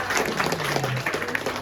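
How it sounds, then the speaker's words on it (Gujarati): A live audience at a public-speaking show breaks into brief, dense applause, a close and steady rattle of many hands clapping. "એના માટે તાળી પાડો એકવાર જોરદાર."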